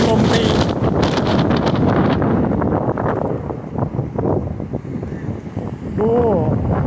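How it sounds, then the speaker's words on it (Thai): Strong evening wind in San Francisco in summer buffets the microphone with loud, continuous roaring gusts, while someone talks over it. "ลมแรงมากเลยครับช่วงตอนเย็นในซานฟรานซิสโกนะครับ"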